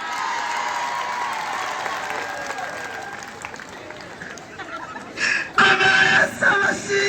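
A church congregation at a revival gathering breaks into applause. A voice is heard at first over a low crowd murmur, then louder bursts of clapping and cheering swell near the end.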